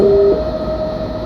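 A heavy BR 189 electric locomotive in the video game Train Simulator Classic rumbles past nearby with a steady low roar and a sustained electric whine, a brief higher tone at the start.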